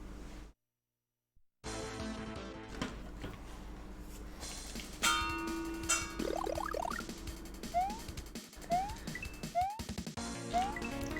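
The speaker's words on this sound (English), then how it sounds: "Sometimes bells ring." A bell rings once with a clear sustained tone, followed by a few short rising chimes, heard alongside game sounds and music in a Super Mario World hack.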